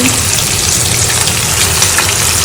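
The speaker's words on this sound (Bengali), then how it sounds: "কিছু ইলিশ মাছ ফ্রাই করতেছি" Hilsa fish fries in hot oil in a pan, giving a loud, steady, continuous sizzle and hiss that never lets up, with no one talking.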